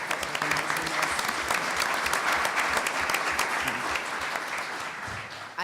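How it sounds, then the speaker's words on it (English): A room full of audience members claps steadily in a round of applause for the organizers of a business event, dense and sustained before tapering slightly at the end. "I just wanted to give a round of applause to the folks who are organizing this"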